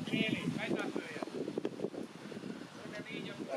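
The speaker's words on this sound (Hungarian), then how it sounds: "Rángatja a szél." Gusty wind buffets the microphone outdoors at a youth football match, a rough, continuous rumble that swells and dips throughout, mixed with distant voices and crowd talk.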